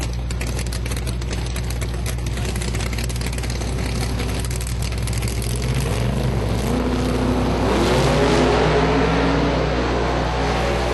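Outlaw drag racing cars launch side by side in a pick'em race down the strip, their engines a loud, continuous roar that climbs in pitch toward the end.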